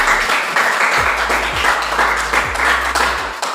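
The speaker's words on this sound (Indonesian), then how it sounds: "berikan tepuk tangan dulu" A class of schoolchildren claps together in a classroom, a loud, close burst of fairly rhythmic hand claps with a low thudding undertone, continuing steadily without talk.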